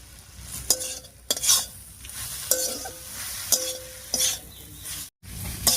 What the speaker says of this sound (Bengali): লবণ হলুদ দিয়ে খুব ভালো করে মিশিয়ে নিয়েছি